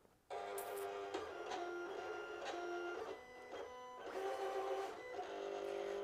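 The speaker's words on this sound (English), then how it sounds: "the machine is running through. It's reading all those registration marks so it can cut everything out perfectly" A Silhouette cutting machine runs while reading registration marks on kiss-cut sticker sheets, giving a steady whirring motor hum with repeated sliding carriage movements and small clicks, close and fairly quiet, with no talking.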